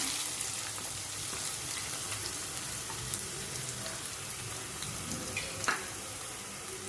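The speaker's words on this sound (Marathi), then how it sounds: "आता ते तेल तापत आलं आहे तर ह्यामध्ये आपण कांदा नेहमी दोन बारीक करून घेतलेले ते आपण घालून घेऊया" Finely chopped onions sizzle in half a cup of hot oil in a pan while a Marathi fish masala is cooked. The frying is a steady, quiet crackle with faint stirring clicks throughout.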